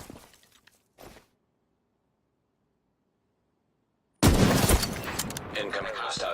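Gunshots in the video game The Division 2, a couple of faint sharp shots at the start, then a long silence before a loud burst of rapid fire with crashing and shattering that continues to the end.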